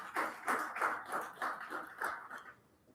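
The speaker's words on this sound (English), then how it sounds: "Ladies and gentlemen, a round of applause for the Uganda Communications Commission, UCC." Applause from an audience at a State of Digital Economy conference in Uganda, heard as a series of rhythmic clapping bursts that thin out and fade near the end.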